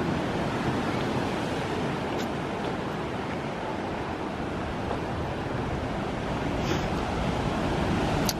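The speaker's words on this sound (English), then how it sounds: "Watch the waves for a minute." Ocean waves break and wash continuously onto the shore in Tenerife, a steady broadband roar of surf with some wind noise on the microphone and no voices.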